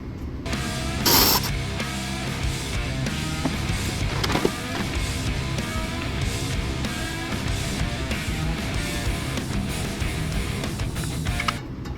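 Mechanical whirring and clicking of a ratchet working on a transmission mount bolt under a 2015 Nissan Rogue, continuous and fairly loud for the whole stretch with a few sharp clicks.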